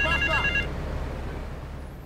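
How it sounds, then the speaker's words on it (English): A telephone in GTA III rings with one short electronic trill burst, clear and close, then fades into quiet room tone. "let's answer this phone"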